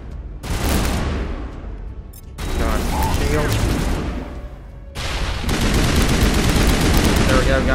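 Gunfire in Mass Effect, sustained rapid shooting in long loud bursts separated by brief pauses, destroying turrets, with a voice speaking over it.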